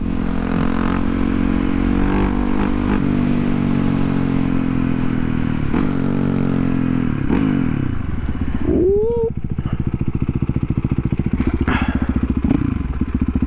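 A motorcycle engine runs loud and close, with a steady throbbing idle that rises and falls through several revs. One sharp rising rev comes near the middle, with faint clatter underneath.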